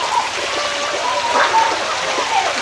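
Steady flowing water at an outdoor cafe set among a pineapple plantation in Pontian, a continuous trickling wash with faint voices in the background.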